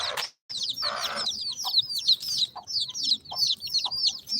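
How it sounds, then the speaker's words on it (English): Hens and baby chicks on a morning walk in Ghana: rapid high peeping from chicks runs continuously, with a few lower clucks from adult chickens close by. "Look at the baby chickens."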